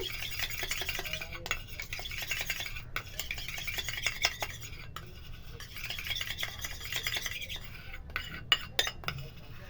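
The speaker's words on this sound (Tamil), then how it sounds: "வெறும் பாலை ஊற்றணும், அலோவேரா ஜெல்லை போட்டு மிக்ஸ் பண்ணிவிட்டு அப்ளை பண்ணலாம்" Milk being stirred together with aloe vera gel in a small bowl, giving soft continuous scraping and tapping of a utensil with scattered clinks, close and fairly quiet, with no talking.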